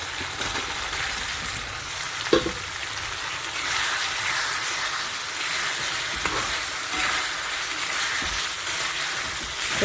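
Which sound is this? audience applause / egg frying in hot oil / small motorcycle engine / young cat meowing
egg frying in hot oil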